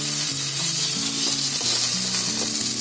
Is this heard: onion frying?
yes